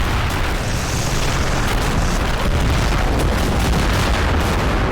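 Katyusha rocket artillery barrage in the World War II game Men of War Assault Squad 2, 1944 Eastern Front, a loud continuous roar of overlapping explosions and rumble with no break.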